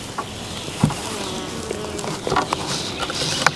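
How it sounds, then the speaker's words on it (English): Swarm of bees buzzing inside a swarm box hanging in a tree, a steady insect hum with scattered soft knocks and rustles throughout. "the bees are they buzzing inside. They want out."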